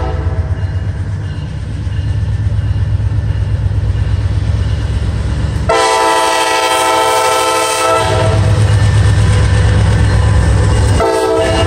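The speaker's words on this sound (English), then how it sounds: "Time for the research train to go through." A research train with passenger cars rolls past loudly and close, a deep steady rumble of the locomotive joined by long blasts of the train horn, twice sounded, over the rolling of the cars.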